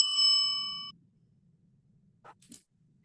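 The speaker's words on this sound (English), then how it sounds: "Sorry about the bell." A single bright bell strike rings out at a public hearing and decays over about a second, followed by a quiet room with a couple of faint clicks.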